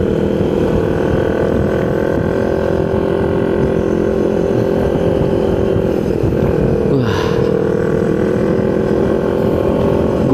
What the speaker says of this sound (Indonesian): kudu ngegas deh, kudu usaha lagi si motornya